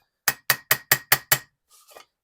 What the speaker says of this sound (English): So I'm just going to take and lightly tap